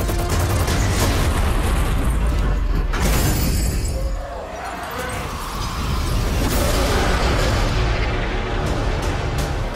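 Loud, dense bursts of rapid gunfire and heavy impacts roll on continuously, with a brief dip midway before the barrage surges back.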